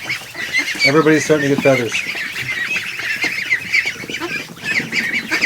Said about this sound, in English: there's my Chinese goose